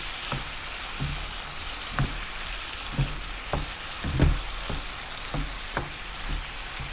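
Ground beef with seasonings fries in a pan, giving a steady crackling sizzle broken by regular scrapes and taps from the spoon stirring it, close up and with no voices.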